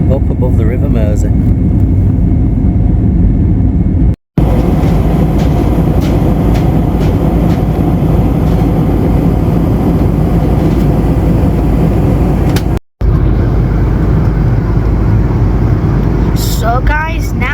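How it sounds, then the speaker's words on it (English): Cabin of a jumbo jet airliner in flight after takeoff, a dense, loud, steady roar of engine and airflow noise filling the whole clip, with two very brief dropouts and people talking faintly underneath. "now we are in the skies on the aeroplane, or on our jumbo jet"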